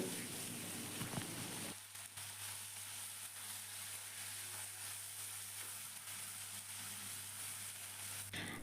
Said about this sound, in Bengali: সেকেন্ড সাইডটাও ঘুরিয়ে ভেজে নেবো যখন দেখব মুড়োগুলো একটু ভাজা ভাজা হয়ে গেছে